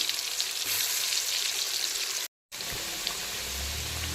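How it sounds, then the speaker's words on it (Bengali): Potatoes coated in turmeric deep-fry in plenty of oil, giving a dense, steady sizzle that cuts out for a moment and then resumes just as strongly. "এখন আলুগুলোকে খুব ভালো করে ডিপ ফ্রাই করে নেবো ডুবো তেলে"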